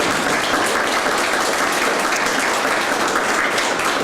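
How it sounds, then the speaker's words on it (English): Sustained applause from an audience at a school-hosted education event in Addis Ababa, thanking panelists; dense, steady clapping fills the whole stretch at even loudness, with no voices over it. "please, with a round of applause"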